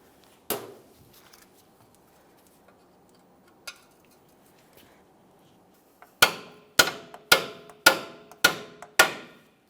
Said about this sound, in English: I'm also going to be using a small pry bar to gently pry it apart